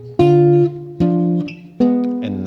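A guitar repeats a diminished counterpoint pattern a minor third lower, played as three clean plucked double stops, each struck crisply and left to ring briefly before the next, close and clear with no voices.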